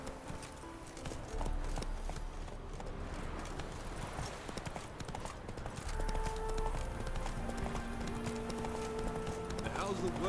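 Hoofbeats of Roach, the horse in The Witcher 3, clip-clopping at a steady run close by, a short whinny in the mix, over game music and ambience, with a voice speaking briefly.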